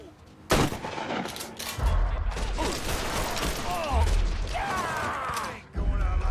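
Weapon reloading in Mafia 3 during a firefight: loud gunshot bursts and mechanical clicks and clacks of a gun being handled, with game dialogue voices and deep impacts throughout.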